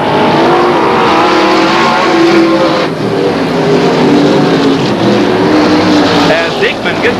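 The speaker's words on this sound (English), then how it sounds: "As Ray Goodwin Jr. spins down on the racetrack, and the yellow flag will come out" Several dirt-track race cars roaring around Midwest Speedway in Lincoln, Nebraska, during a 1983 event, a loud continuous engine drone with passing pitch shifts under a trackside announcer's commentary.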